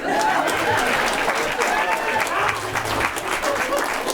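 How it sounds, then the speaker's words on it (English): A bar crowd at a comedy show, at a riverside bar in Prairie du Sac, Wisconsin, gives steady, dense applause that fills the room with continuous clapping, with voices and cheers mixed in throughout. "Let's have a big round of applause"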